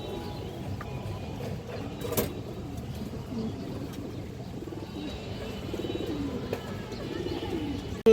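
Bloodline racing pigeons kept for sale, cooing softly in a low, continuous murmur, with a sharp click near the start and faint chirps over steady background noise.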